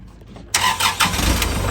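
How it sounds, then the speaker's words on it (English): A tractor hooked to a Land Pride WC1504 wood chipper cranks briefly, then its engine catches with a loud burst and settles into a steady, rumbling run close by. "like I'll start the tractor again,"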